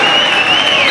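A loud, steady roar of crowd noise with applause and cheering fills a men's college volleyball gym during a North Greenville versus Erskine match, with a whistle-like tone running through it.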